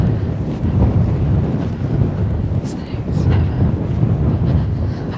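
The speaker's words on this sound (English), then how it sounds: "the wind isn't helping or hindering, it's just really off the left" Steady wind blows across a seaside golf course at Nefyn in Wales, buffeting the microphone with a continuous low, rushing roar that never lets up.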